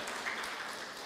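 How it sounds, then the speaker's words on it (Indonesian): A church congregation applauds during a sermon, giving a faint, even wash of clapping that stays quiet and distant throughout its short length. "Ya, tepuk tangannya buat Tuhan Yesus loh"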